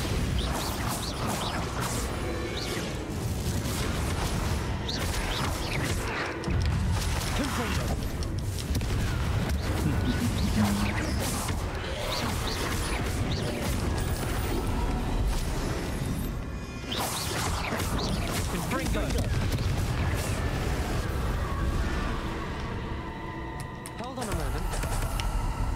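Spell blasts from Bombarda and Confringo in the Hogwarts Legacy video game: a dense, continuous run of crashing impacts, whooshes and clattering bursts with a steady roar beneath, loud and busy throughout.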